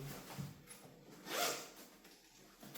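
A quiet zipper pulled along the seat fabric of a Cybex Balios 3.0 stroller, one soft rasping stroke swelling and fading, recorded close up with no talking.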